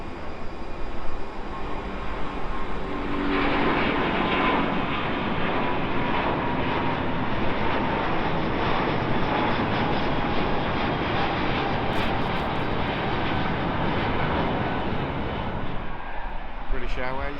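China Southern Airlines Airbus A350 at London Heathrow, a loud sustained jet engine roar that swells and holds steady for many seconds, with a voice faintly under it.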